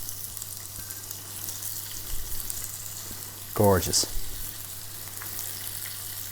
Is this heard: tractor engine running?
no